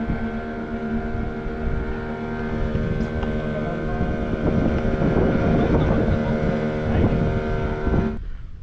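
A motorboat ferries passengers across coastal water to Sindhudurg fort in the Konkan, its engine droning steadily with a constant hum and wind buffeting the microphone, ending abruptly.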